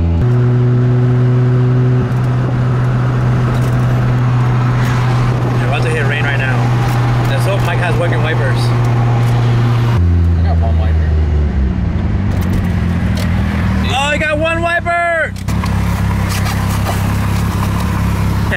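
A Mazda RX-7's engine drones steadily from inside the cabin as it drives, its pitch dropping and rising with gear changes, with voices occasionally over it.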